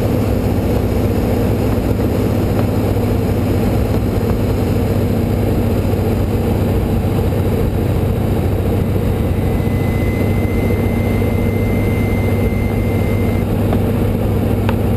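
A Boeing Stearman biplane's radial engine drones loud and steady at reduced power in flight, a constant low rumble with wind noise and no pauses.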